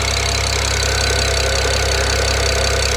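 Steady, smooth idle of a BMW E92 335i's freshly swapped N54 twin-turbo inline-six, a close, constant engine hum with no speech.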